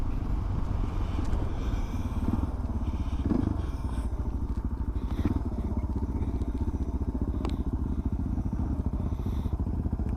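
Suzuki DRZ400 and DR650 motorcycles climbing a forest trail on Tolleys Track, Neerim East, just above idle, a steady low engine thump with faint clatter and scraping throughout.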